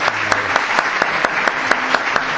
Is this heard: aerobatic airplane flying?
no